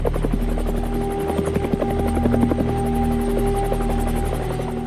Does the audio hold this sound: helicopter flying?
yes